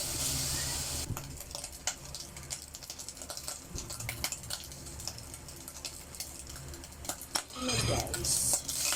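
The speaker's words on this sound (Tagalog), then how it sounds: "Haluin na natin." Food is stirred in a cooking pan, with metallic scrapes and clinks of a utensil against the pan over a faint sizzle, ending in a louder burst of frying.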